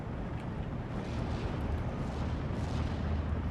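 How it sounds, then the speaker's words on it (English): Continuous low rumble of heavy artillery and mortar shells exploding in the Steel Division 2 battlefield, a dense, steady roar of booms blending together at a moderate distance with no voices. "I'm just getting hammered by some large artillery shells."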